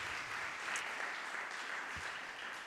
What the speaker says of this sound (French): on peut t'applaudir d'ailleurs